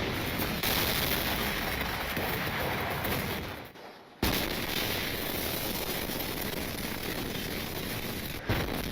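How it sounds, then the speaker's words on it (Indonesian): A bomb explosion in the anime Heavy Object roars as a loud, sustained broadband blast that briefly cuts out, then bursts back in and keeps rumbling, with no talking. "Apia meminta Quenter untuk segera mengaktifkan bom yang sebelumnya sudah dipasang."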